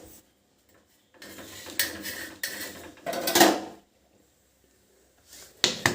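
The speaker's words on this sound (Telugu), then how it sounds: "ఇంకా జొన్న రొట్టి తడుతున్నాను." Jowar (sorghum) roti dough patted by hand in a home kitchen, a few separate soft slaps and thumps with quiet gaps between them, close by.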